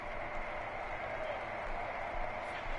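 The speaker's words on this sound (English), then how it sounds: "the crowd getting into it as we come up on a big third down" Steady, dense crowd roar from a stadium in a football video game, building during a big third-down moment, a continuous wash of cheering with no break and no clear voices on top.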